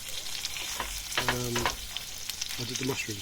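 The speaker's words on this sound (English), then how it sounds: "Turn the heat off and let them carry on sizzling." King prawns sizzle in chilli and garlic butter in a pan, frying steadily up close, with brief speech over the top.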